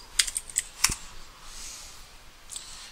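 A few quick clicks of typing on a computer keyboard while entering a command during an Arch Linux install, sparse and fairly faint keystrokes near the start, then near quiet with a last click.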